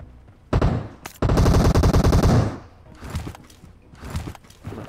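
Automatic rifle fire in the mobile battle-royale game PUBG Mobile: a short burst, a pause, then a longer sustained volley of rapid shots, loud and close, followed by quieter scattered game sounds.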